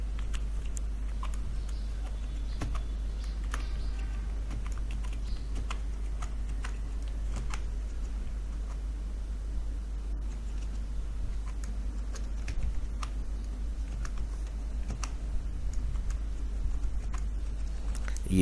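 Steady typing on a computer keyboard while entering month names into an Excel attendance sheet, with soft, fast key clicks continuing throughout over a low constant hum.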